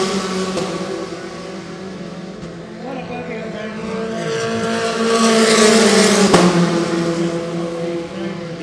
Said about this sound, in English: Fantastic sounding cars making their way down the front straight, going up the gears all the way up fourth, fifth, up to sixth gear.